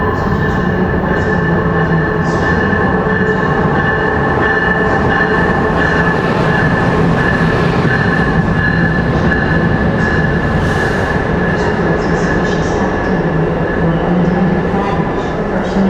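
A local American passenger train running from New York to Washington, heard from inside as a constant loud rumble and rattle of the carriage with a steady rolling hum, unbroken throughout.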